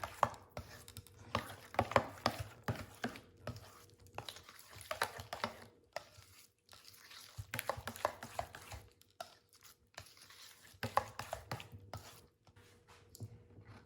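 Cauliflower mash being mixed with cheese and bacon in a bowl, giving a run of soft, wet squishing and scraping strokes in irregular bursts, close and fairly quiet, with no talking.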